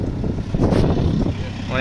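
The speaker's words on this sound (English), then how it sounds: "Really nice T2 arriving, nice yellow." A yellow VW T2 camper van rolls in at a VW and camper meet at Middleton Hall, its engine a low, steady rumble close by beneath someone talking.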